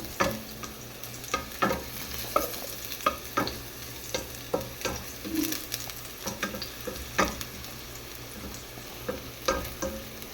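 Ginger fries in a pan with chicken broth nearby. A quiet constant sizzle carries repeated spatula taps and scrapes at an irregular stirring rhythm, heard up close with no voices.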